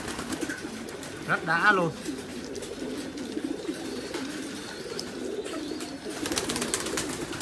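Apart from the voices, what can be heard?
Thai titan pigeons cooing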